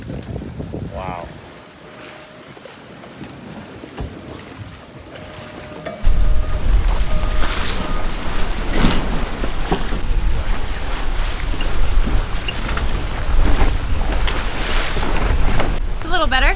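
Strong wind buffets a sailboat out on the open Pacific Ocean, a rough, roaring gust rising sharply partway through and staying loud, with faint voices in the background.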